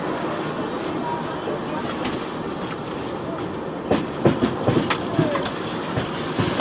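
Inside the 12357 Durgiyana Express from Kolkata to Amritsar, running nonstop between Bareilly and Moradabad: a steady, loud rumble of the moving carriage with clickety-clack wheel beats growing more pronounced toward the end.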